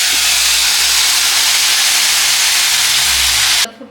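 Water poured into a hot pan of sugar gives a loud, continuous sizzling hiss. The hiss holds steady for several seconds and then cuts off abruptly.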